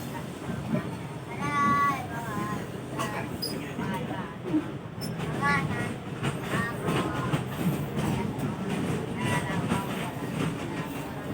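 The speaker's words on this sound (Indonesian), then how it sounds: "KA Arjonegoronya udah berangkat dari stasiun Waru menuju stasiun Wonokromo" The KA Arjonegoro local train running from Waru station toward Wonokromo, heard from inside as a steady rumble with rhythmic wheel clatter, loud and continuous, while people talk and a high squealing sound recurs.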